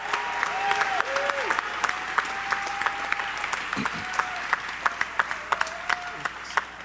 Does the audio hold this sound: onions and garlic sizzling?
no